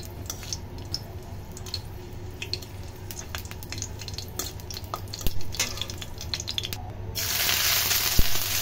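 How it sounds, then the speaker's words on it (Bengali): Dried chillies fry in oil in a wok with a continuous soft sizzle and scattered crackles and stirring clicks, growing into a louder, hissing spatter near the end. "প্রথমে একটা কড়াইতে তেল দিয়ে এর ভিতরে শুকনো মরিচগুলোকে ভেজে নেবে।"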